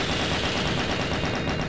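Rapid gunfire in the video game Elementalism, with a fast, even stream of shots rattling steadily for under two seconds.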